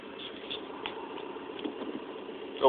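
A car engine idles in a driving video game after start-up with a push-button ignition on a Thrustmaster shifter, a low, steady rumble with faint rattles and a louder bump at the end.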